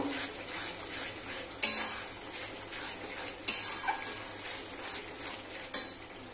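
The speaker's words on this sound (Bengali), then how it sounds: "এবার ভালো করে কষিয়ে নেব" A spoon scrapes and stirs chicken masala spices with salt, turmeric and chili powder in a pan, faint and steady, with a few sharper clinks of utensil against metal scattered through the quiet background.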